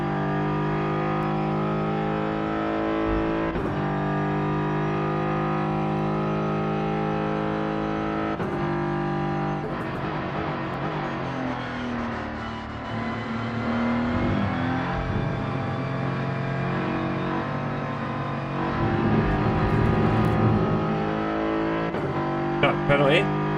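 Race car accelerating in the Rennsport racing game, a loud engine tone climbing through the gears with pitch rising and dropping at each shift, a person talking over it.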